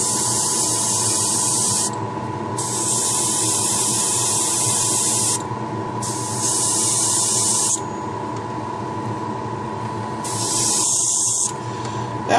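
Spray paint hissing onto Enterprise 1701-A model parts in four long bursts with short pauses between, steady and close over a constant low mains hum.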